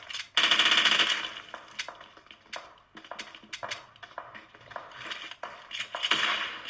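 Gunfire rattles in a shooter video game played on a phone, with quick bursts of automatic shots and sharp single cracks scattered across the stretch, fairly close and crisp, with no speech over it.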